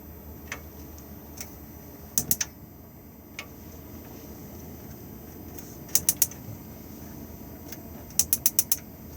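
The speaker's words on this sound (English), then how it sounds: "It is just a matter of push in, twist and push the igniter." Gas hob ring in an Auto-Sleeper 2021 Kemerton XL motorhome being pushed, twisted and lit: quick clusters of sharp, close igniter clicks in three bursts, with a few isolated ticks between, over a quiet background.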